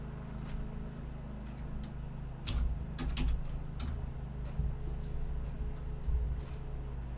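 Computer keyboard typing while writing code, light clicky keystrokes in irregular bursts with brief pauses, fairly close and quiet, no talking.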